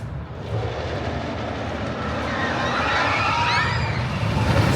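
A train on El Toro, the wooden roller coaster at Six Flags Great Adventure, sweeps past as a steady, building rumble with a rising roar toward the end, heard at some distance against open outdoor ambience.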